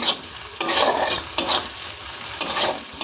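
Chopped green chillies fry in hot oil in a pan for a mushroom masala, sizzling loudly and close up as a spatula stirs them in several sweeping scrapes.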